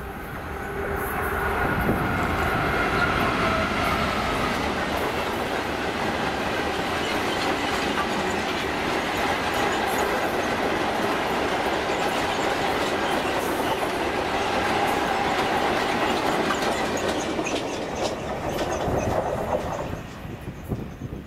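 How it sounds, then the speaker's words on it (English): DB Cargo Class 66 locomotive 66002 hauls a freight train past on the line toward Carlisle, a loud, steady roar of engine and rolling wagons with continuous clickety-clack and faint wheel squeal throughout, close by and without talking. "6K03, the 1432 DB Cargo service to Carlisle NY from Larkfield Junction"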